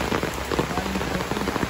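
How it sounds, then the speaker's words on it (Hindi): Heavy tropical rain pours down in Bali, a dense, steady hiss of drops drumming on surfaces with no break, close and loud throughout. "क्या खतरनाक बारिश हो रही है."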